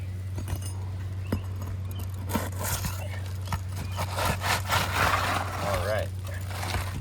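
An old, brittle roof shingle is pried loose from its nails, giving a cluster of dry wooden scrapes and rubbing creaks that build toward the end over a steady low electrical hum.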